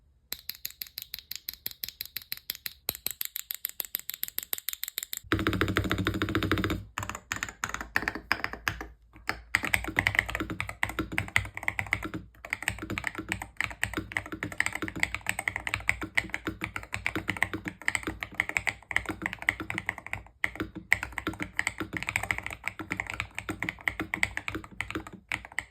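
Aula Hero68 budget RGB magnetic keyboard with pre-lubed magnetic jade switches, typed on steadily: a close, dense run of crisp clacks, at first sparse and separate, then a fast continuous patter of keystrokes.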